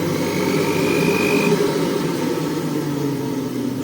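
A Juilist 800W centrifugal juicer runs empty at its lowest speed, giving a steady, loud motor whir with a faint high whine, continuous and unbroken, with no talking.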